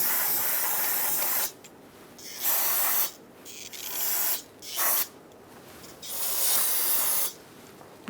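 Aerosol brake cleaner hisses loudly in several spray bursts of uneven length onto a Nissan Altima front brake caliper, with brief quiet pauses between them.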